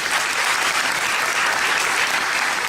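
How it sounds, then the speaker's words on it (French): A crowd claps steadily, dense and sustained applause filling the room at an even level throughout. "Merci d'applaudir Ophélie Forgy, Miss Poitou-Charentes."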